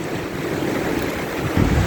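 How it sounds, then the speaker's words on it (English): Small waterfall running into a stream beneath an arched bridge, a steady broadband rush of falling water with wind buffeting the microphone, louder toward the end. "There's a lovely little waterfall over the other side that's running into it."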